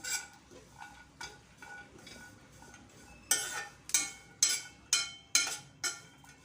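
Spoon scraping and clinking in a pan while dry roasting peanuts with grated dried coconut, sesame and cumin, soft at first, then a run of louder rhythmic strokes, close with no talk.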